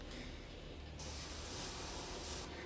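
An airbrush sprays thinned paint in a continuous, steady hiss that brightens and thickens after the first second, close up and alone.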